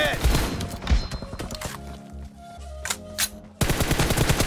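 Rapid gunfire in PUBG Mobile team deathmatch: bursts of close, sharp automatic shots at the start and end, separated by a stretch of scattered single shots and thuds.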